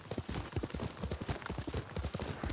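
Horse hooves in Ghost of Tsushima clop in a quick, steady galloping rhythm, close and distinct across the whole stretch, with no talking.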